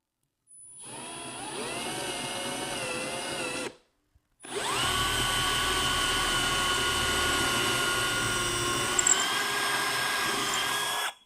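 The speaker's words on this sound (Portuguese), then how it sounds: "E então alinhe a broca com esse canto." A power drill bores a hole in a wooden block in two bursts. A short whine stops briefly, then a longer, steady, close high-pitched run follows.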